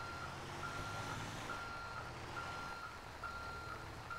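Truck reversing alarm in the Euro Truck Simulator video game, a regular series of high, thin beeps repeating about twice per second over a steady engine rumble, with no speech.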